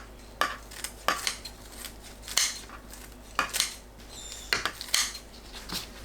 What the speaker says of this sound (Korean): 황태포를 3-4cm 간격으로 썰어주세요.